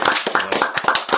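A group applauds at an arts TV show, with quick, dense, close-up clapping that comes in uneven bursts over about a second.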